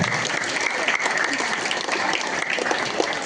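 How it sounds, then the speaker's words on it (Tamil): Audience applause fills a school annual day event, steady and loud clapping from a large crowd for several seconds without a break. "நல்லா ஒரு கைத்தட்டலாமே."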